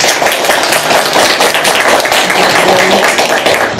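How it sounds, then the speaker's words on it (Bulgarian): Loud, dense applause from a crowd at a press conference for a fashion boutique, steady clapping that stays full and close throughout. "Аплодисменти."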